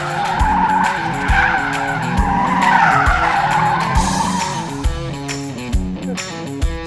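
An RTR Mustang drifts donuts around a cone. Loud, close tire squeal and skidding run continuously under a straining engine that rises and falls as the car circles.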